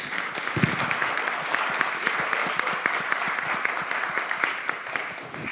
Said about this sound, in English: Give Michael a round of applause, will you?